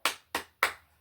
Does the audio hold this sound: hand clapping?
yes